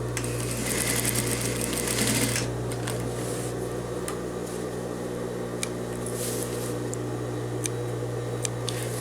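A sewing machine stitches a seam on a waist belt for a men's vest, a fast dense burst of stitching for the first couple of seconds easing into lighter ticking over a steady motor hum, close up and alone.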